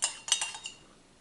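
A spoon stirring a melted mixture for pancakes in a bowl: a few quick, bright metallic clinks against the side, close and fairly soft, fading out within a second.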